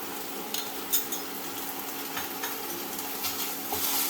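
Ginger garlic paste going into onions frying in oil in a pan for a thin chicken and potato curry, a steady soft sizzle with occasional clinks of a spoon stirring against the pan.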